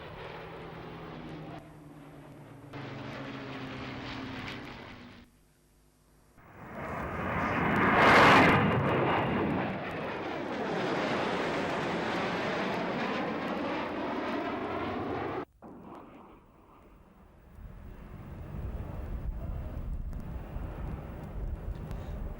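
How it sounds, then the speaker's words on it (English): Three Tornado jets arrive and land at RAF Leeming during an air fair, with a loud, sustained jet engine roar that builds to a peak and holds before dropping away, followed by a quieter distant rumble. "shortly followed by 3 Tornadoes arriving home here at Leeming"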